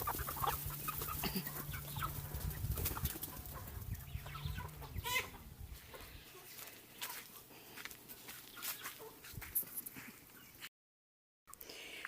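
Chickens cluck and mutter close by in an irregular, scattered way, with a low hum in the background early on, then a brief silence near the end.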